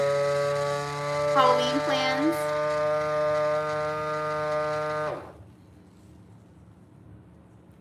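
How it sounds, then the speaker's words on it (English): A vacuum sealer, loud from moisture drawn into it, runs with a steady mechanical hum and strong tonal harmonics for about five seconds, then cuts off; a voice speaks briefly over it. "That one was loud because I think the moisture got up in the vacuumer."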